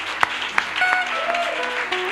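A church congregation applauds and acclaims Jesus, with sharp claps and a crowd of voices swelling into cheering, several calls rising and falling over the clapping.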